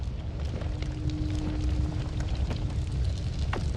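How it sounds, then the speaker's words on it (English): Fire burns and roars in the pixel game Noita, a steady rumbling whoosh with faint crackles and a brief tonal whine, unbroken and without speech. "Now everything's on fire."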